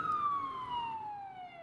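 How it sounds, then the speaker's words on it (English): A police siren wails with a steady descending tone, like a pitch sliding down as it passes or pulls away, fairly faint and alone, with soft road noise underneath. "As they drove away, they heard police sirens."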